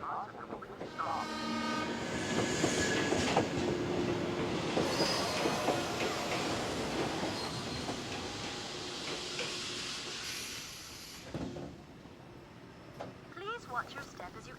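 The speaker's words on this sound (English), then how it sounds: "Attention, the 5:30 train to Kagoda has now arrived." A train pulls into Sendai station in an anime scene, its rumbling wagons and squealing wheels filling the foreground as it slows and stops, with a horn and announcement-style speech over the din.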